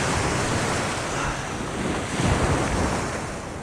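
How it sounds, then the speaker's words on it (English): Calm morning ocean surf on a Long Island beach in mid-October, with small waves washing in steadily under a light wind rumble on the microphone and a slightly fuller swell near the end. "got a beautiful morning here on the ocean surf. Barely any waves, barely any wind."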